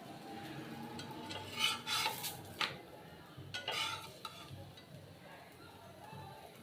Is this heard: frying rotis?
yes